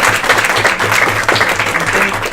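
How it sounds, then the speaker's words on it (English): An audience gives panelists at a housing and transit discussion event a dense round of applause, with many hands clapping loudly and continuously. "Please give them a round of applause."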